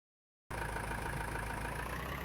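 A tractor engine idles in Farming Simulator 19, starting abruptly after a moment of silence and then holding a steady, even mechanical hum with low rumble, alone without talk.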